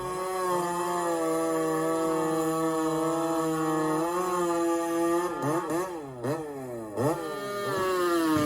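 Chainsaw bucking firewood, its engine droning steadily and loudly, then rising and dipping in pitch a few times as it bogs and recovers under the cut.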